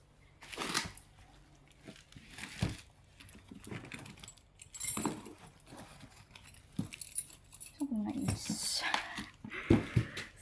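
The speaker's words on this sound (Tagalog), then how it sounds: "Hanap ko yung susi ng sasakyan." Car keys jangle in short metallic bursts while someone rummages through a bag, with crinkling and rustling between them and someone talking over the sounds.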